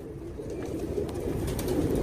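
A pigeon cooing close by, a low continuous throaty rumble that pulses gently and holds steady for about two seconds, with a faint high background whine and no talking.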